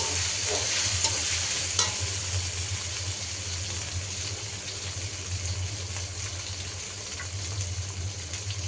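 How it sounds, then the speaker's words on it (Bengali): Ginger garlic paste, chopped onion and green chilies frying in hot oil, a steady close sizzle with occasional stirring clinks, no talking. "দেখুন আদা রসুনের পেস্ট, পেঁয়াজ, কাঁচামরিচটা তেলে ভাজা হচ্ছে।"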